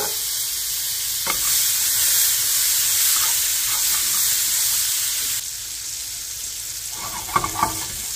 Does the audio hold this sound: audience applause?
no